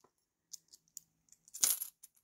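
Coins drop into a small crocheted amigurumi mini wallet, a few light metallic clinks and taps followed by a brighter jingling clatter as they settle, close and quiet against silence.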